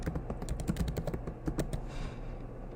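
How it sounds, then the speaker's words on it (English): A quick run of keystrokes on a computer keyboard, close and crisp, then a brief pause and a few final taps before it falls quiet. "Come over to the search column and type in Google Drive."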